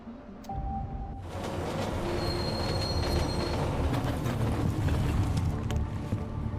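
Train ride in Deus Ex: Mankind Divided: a steady, loud rumble of rolling rail cars with squealing wheels and faint high tones, continuous throughout after a brief quieter start.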